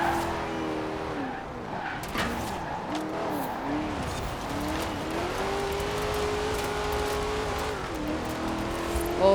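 Holden VL Commodore driven with drifting style in Forza Horizon 4, its engine droning and rising steadily for several seconds, with wavering revs and tire squeal as it slides through corners, loud and continuous.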